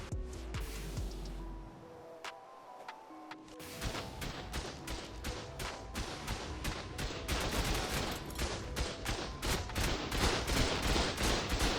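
Rapid automatic turret fire in ARK, a dense stream of sharp shots that thins briefly and then builds into a loud, continuous barrage.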